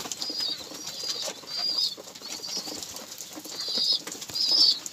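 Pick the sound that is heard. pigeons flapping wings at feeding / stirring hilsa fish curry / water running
pigeons flapping wings at feeding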